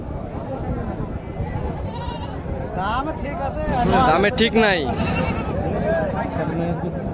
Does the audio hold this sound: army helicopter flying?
no